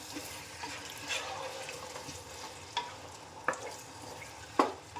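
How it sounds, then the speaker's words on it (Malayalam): Beef stirred with masala in a hot frying pan for biryani, a continuous sizzle with scraping spatula strokes and a few sharp clinks against the pan, up close with no talking. "ആ ബീഫ് ചേർക്കാം നന്നായിട്ടൊന്ന് മിക്സ് ചെയ്തെടുക്കാം"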